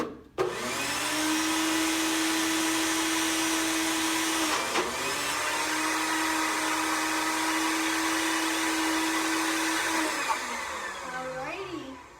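A blender whirs loudly and steadily for several seconds, briefly dipping once, then winds down at the end.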